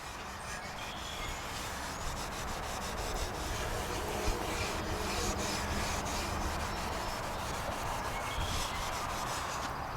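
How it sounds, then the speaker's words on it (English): Old finish, dirt and wax are scrubbed off a Syroco-American clock in a continuous, close, gritty rubbing with a fast back-and-forth rhythm that never lets up. "Cleaning the old finish off and also trying to get rid of the dirt and wax that's around there"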